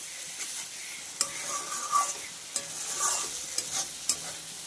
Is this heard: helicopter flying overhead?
no